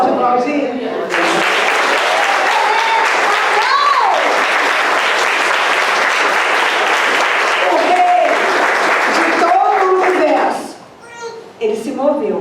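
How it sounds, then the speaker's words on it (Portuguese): Church congregation applauding during a Christmas sermon, a loud, sustained wash of clapping from a large crowd lasting about ten seconds before dropping away, with voices and children's chatter mixed in near the end. "Você pode aplaudir?"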